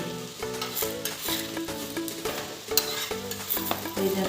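Cut potatoes fry lightly in oil in a pan, giving a steady close sizzle with stirring scrapes throughout and a faint musical hum in the background.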